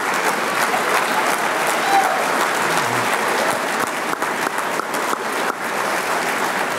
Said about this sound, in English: let's give our spouses and our families just a terrific round of applause. That's worth a standing ovation.